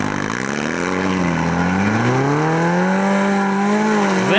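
A Suzuki four-wheel-drive vehicle in an off-road competition revs steadily, its engine note sweeping up and down under load in one continuous, loud run, near and alone without talk.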